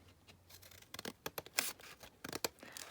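Paper for a double pocket policy envelope is trimmed with a series of quick, close snipping and rasping cuts in an uneven rhythm.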